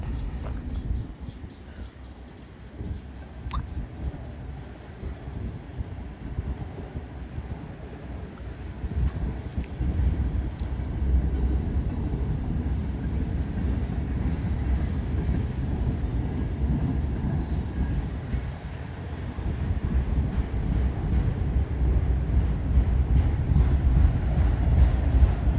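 A BNSF train rolls past in Montana with a broad, steady low rumble that builds slowly and keeps going throughout. Wind buffets the microphone, and there are no voices.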